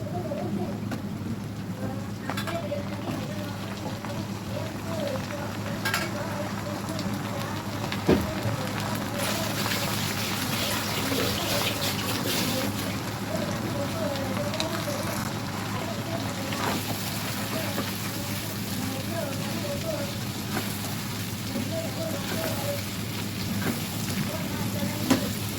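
Chicken pieces sizzling in a pan with lightly fried onions for a chicken curry, a steady close hiss and crackle of frying oil that continues evenly throughout.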